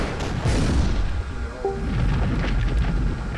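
Weapon fire and explosion in the tank artillery game Shellshock Live: a deep rumbling boom rolls on continuously, loud and low like distant thunder, with a brief rising tonal effect partway through.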